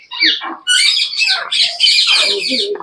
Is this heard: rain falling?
no